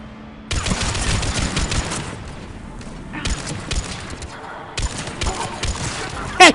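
Rapid automatic gunfire from the video game Mass Effect 3, loud and dense in three sustained bursts separated by brief pauses, with sharp clattering shots and booming impacts throughout.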